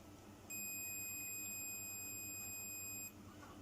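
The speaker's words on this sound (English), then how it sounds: "We get a beep and then it charges them up." A single sustained electronic beep from a Yamaha YAS-306 soundbar during power-supply capacitor charging, high and pure-toned, lasting about two and a half seconds over quiet background hum.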